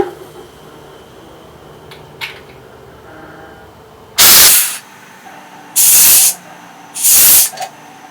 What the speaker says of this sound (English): I'm going to hook up my CO2 line to my inpost, and I'm going to purge all the oxygen that got into the keg